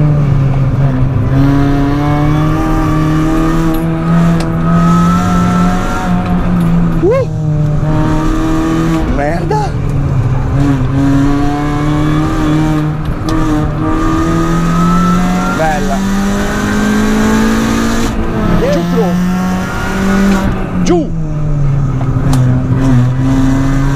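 A Mini Cooper S R53 track car driving hard on a circuit, its engine loud and close, holding a steady drone with repeated rev rises and brief dips on gear changes, continuous throughout.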